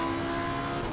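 Porsche race car in the racing game Assetto Corsa Competizione running off the track, its engine a steady, loud droning whine with tire and gravel noise, continuous throughout with no voices.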